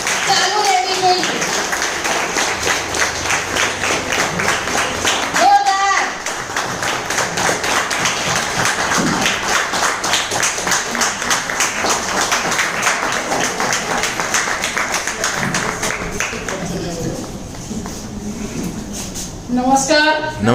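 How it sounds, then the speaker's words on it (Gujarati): A seminar audience at Prithvi Hotel in Maninagar applauds to welcome speakers, with sustained clapping filling the room while voices talk over it. "તાળીઓ ચાલુ રહેવી જોઈએ."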